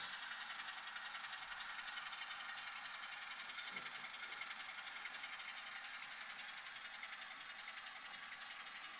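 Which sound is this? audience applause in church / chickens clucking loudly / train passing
train passing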